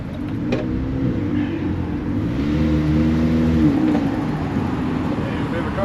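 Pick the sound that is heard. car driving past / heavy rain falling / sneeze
car driving past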